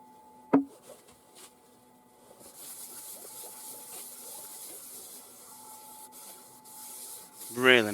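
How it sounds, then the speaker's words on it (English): Steady abrasive rubbing hiss of a spalted ash bowl being sanded to 240 grit on a lathe runs throughout, with a sharp knock near the start and a brief tonal squeal at the end. "Again, sanding up to 240."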